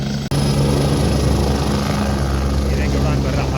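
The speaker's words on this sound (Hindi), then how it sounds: "देखिए, हेलीकॉप्टर को बंद नहीं किया जाता है, चालू हेलीकॉप्टर में सवारी उतरती है" Helicopter idling with rotors turning on the landing pad at Kedarnath, a loud steady close-up drone with a brief dropout near the start, continuing throughout.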